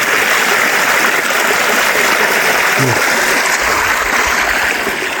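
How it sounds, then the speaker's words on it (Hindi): Water pours through partly opened dam gates near Gujar Khan in Punjab, Pakistan, making a steady broadband rushing roar that stays loud and even throughout. "ये देखें जी, थोड़ा थोड़ा पानी खुला हुआ है और आवाज़ भी आपको इसकी"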